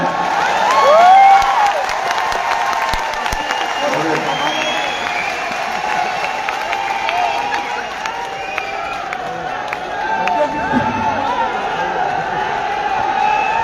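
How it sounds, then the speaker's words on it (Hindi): A large stadium crowd at a corporate celebration event claps steadily and cheers, a continuous wash of applause with scattered shouts throughout. "इतनी बार तालियां बजवा ली इन्होंने"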